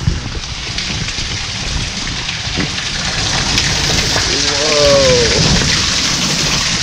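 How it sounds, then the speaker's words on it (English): Heavy rain pours outdoors as a steady, dense wash of noise that builds slightly toward the middle, with a faint voice-like tone briefly audible partway through. "it is pouring out here."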